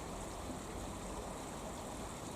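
Steady, faint rushing water with a constant broadband splashing hiss, like a small waterfall heard from nearby, with no voices.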